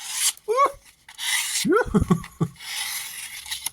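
A budget EDC pocket knife with a full flat grind slices through a paper page, producing several short, dry rasping cuts with brief papery squeaks in between, close and moderately loud, without speech.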